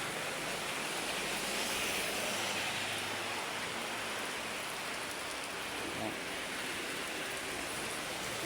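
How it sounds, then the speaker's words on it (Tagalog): Heavy afternoon rain pours down steadily, a dense even hiss of falling water throughout, fairly faint and distant, with no talk. "lakas pong ulan dito sa amin, no?"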